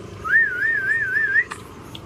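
A person whistles a loud, close, wavering tune for just over a second to call dogs, and faint clicks follow.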